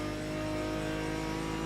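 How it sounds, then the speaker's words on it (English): Race car engine in a Proto-GT sim racing game on the Nürburgring Nordschleife, a loud, sustained high-revving drone with steady harmonic tone throughout, close and alone. "Listen to that engine."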